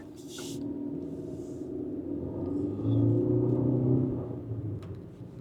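A 2025 Hyundai Creta with the 1.5 petrol engine and IVT gearbox pulling away onto a main road, a soft low rumble swelling as it accelerates, heard from inside the cabin, with a few faint clicks and no talking.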